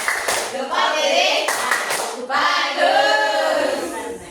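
A classroom plays a thumb-clapping game: quick rhythmic claps come in short bursts, close and fairly loud, while children's voices chant and talk alongside.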